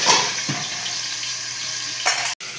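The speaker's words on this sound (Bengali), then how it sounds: "এগুলো বন্ধুরা একটু চাপা দিয়ে দিয়ে বেশ করে ভেজে নিতে হবে" Taro (kochu) pieces frying in a pan, a steady close sizzle with a few soft scrapes and clinks as they are pressed down.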